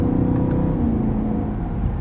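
A BMW E90 M3 engine hums at a steady idle-like drone with a faint whine on top as the transmission downshifts, heard from inside the car with no sharp rev change.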